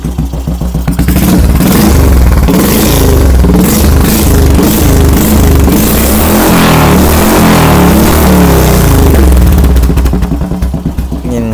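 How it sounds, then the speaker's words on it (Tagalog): Royal Enfield Classic 350 custom bobber revved hard up close, the engine climbing from a thumping idle into a loud, roaring, aggressive burst that holds for several seconds before dropping back toward idle. "Tapos pag i-rev naman natin,"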